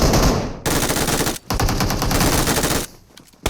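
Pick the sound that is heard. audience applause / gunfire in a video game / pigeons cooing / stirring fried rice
gunfire in a video game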